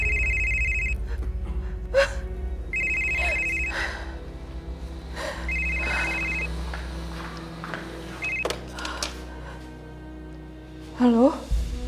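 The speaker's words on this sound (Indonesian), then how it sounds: "Ada telepon Nyonya." A telephone rings repeatedly in an indoor drama scene, several bursts of a steady electronic ring with short gaps, clear and fairly close over low background music and movement.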